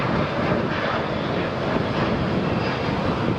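An American Airlines airliner at Phoenix Sky Harbor International Airport fills the air with a steady, loud engine roar that holds at an even level throughout, with no voices.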